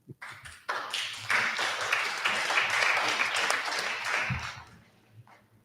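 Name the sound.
applause at a school committee meeting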